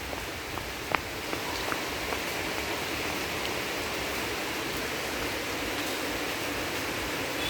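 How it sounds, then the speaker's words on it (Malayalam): Steady light rain drizzling on a garden, a soft continuous hiss with a few faint drips, no voices. "മഴ പിന്നെയും ചാറി തുടങ്ങിയിട്ടാ"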